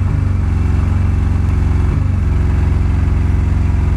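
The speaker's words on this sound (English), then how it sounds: "I need to look at the sound of my motorcycle." A motorcycle engine idles steadily right after a 12V lead-acid battery charge, a loud, close, even low thrum with a regular firing pulse and one brief blip partway through, no voices.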